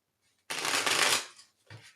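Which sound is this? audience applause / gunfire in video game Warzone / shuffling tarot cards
shuffling tarot cards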